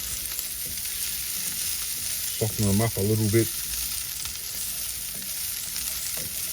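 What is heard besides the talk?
sausages frying in a pot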